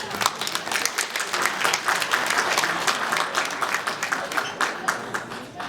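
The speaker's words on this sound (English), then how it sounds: "you should clap for him" A crowd at a burial service applauds steadily for several seconds, a dense wash of many hands clapping at an even level.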